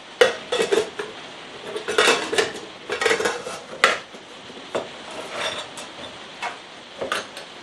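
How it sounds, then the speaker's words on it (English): Hard-anodised aluminium Trangia cooking set, an ex-Swedish-army meths stove kit, its pans being slotted together: a close series of metallic clanks, scrapes and light rattles in irregular bursts, with no talking. "as you can see, the whole thing slots together very, very neatly"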